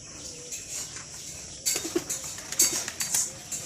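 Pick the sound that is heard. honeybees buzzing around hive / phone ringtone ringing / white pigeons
white pigeons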